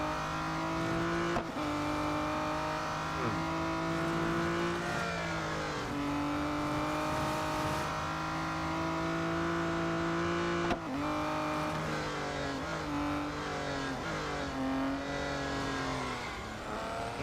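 Race car engine in Real Racing 3, a steady high-pitched whine with shifting harmonics as it revs up and down through gear changes, loud and continuous for the whole stretch without any voices.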